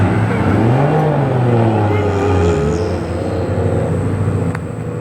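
A Toyota Crown drives past on a street in Japan, its engine note rising and falling as it passes nearby, with people talking over it.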